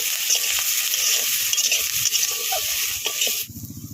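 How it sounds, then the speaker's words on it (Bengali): Whole cumin and spices fry in oil in a pan, giving a loud, continuous sizzle with scraping stirs that suddenly drops away near the end, leaving a low, rhythmic bubbling. "গোটা জিরা দিয়ে দেব মশলাগুলো ভালোভাবে ভেজে নেব"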